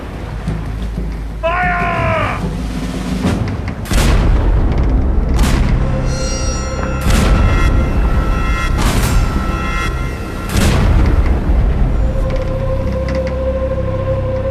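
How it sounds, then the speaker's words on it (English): Several deep, booming blank shots from a ship's cannons, powder without ball, fired one after another at irregular intervals, each a loud roaring report with rumbling decay, amid mechanical noise and a brief tonal whine. "When the cannons were fired, the great roaring sound caused the Hawaiians to drop to the deck in fear and tremble."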